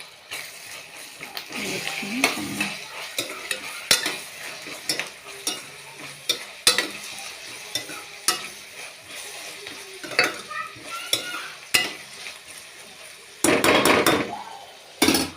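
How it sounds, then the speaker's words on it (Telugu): Garlic paste fries in a pan for a dhaba-style meal maker masala curry, sizzling steadily while a spoon scrapes and stirs with repeated clinks and knocks against the metal, close and moderately loud, with a brief louder burst of sizzling near the end. "వెల్లుల్లిపాయ పేస్ట్ వేసుకున్నాం కదండి. ఇప్పుడు పచ్చివాసన పోయే వరకు ఉంచుకుందాం."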